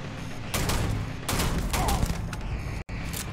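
Pistol shots ring out in the space game Starfield, several sharp cracks in quick bursts amid loud combat noise, with a brief cut of silence near the end.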